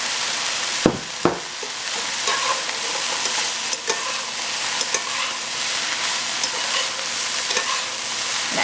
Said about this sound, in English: Let's stir it and see if we're gonna need more or less in it.